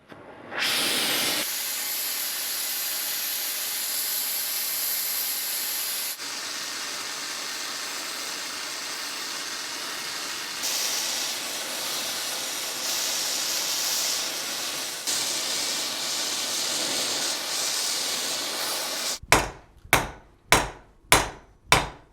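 Torch heating 12mm steel bar for a stone bow trigger gives a long, loud steady roar with brief shifts, followed by five sharp hammer strikes ringing out near the end.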